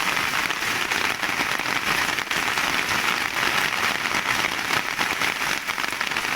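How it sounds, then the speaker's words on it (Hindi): Heavy rain pours steadily onto a field of hand-harvested wheat in Sonipat, a dense, continuous hiss of drops striking the cut crop, close and unbroken with no voices. "ये देखना, बहुत तेज़ बारिश शुरू हो चुकी है, बहुत तेज़।"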